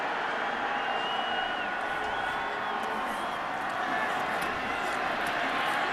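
A roaring football stadium crowd of 80,000-plus at a Clemson versus South Carolina game, a steady, dense wall of cheering and noise holding throughout, with a commentator's voice faintly over it.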